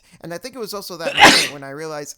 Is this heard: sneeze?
yes